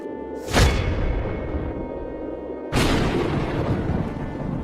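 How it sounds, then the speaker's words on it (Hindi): A strong storm in a fairy-tale drama brings two heavy thunder cracks, the first near 0.6 s and the second near 2.7 s, each followed by a long rumbling roar that fills the clip with no speech. "जोरदार तूफान आ रहा है"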